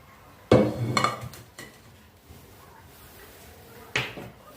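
A metal cooking pot clanks as it is pulled out and handled in a home kitchen, two sharp bangs of metal followed by quieter scraping and a final clang.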